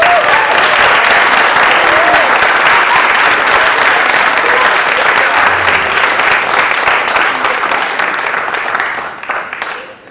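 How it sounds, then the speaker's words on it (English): A crowd at a community rally in Philadelphia claps loudly and continuously, a dense wash of applause that holds steady and then tapers off near the end. "Let's give her a big round of applause."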